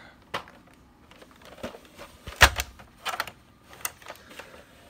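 Keys clicking on a computer keyboard as a password is entered for a 2010 Mac Pro: a handful of irregular, close taps with a few louder strokes, over a quiet room.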